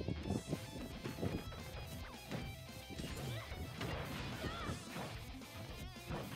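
Forward smash attacks connect in a Super Smash Bros match: repeated sharp smashes and thwacks with quick whooshes, packed densely over busy game music and effects for the whole stretch.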